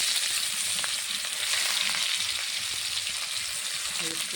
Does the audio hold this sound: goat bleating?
no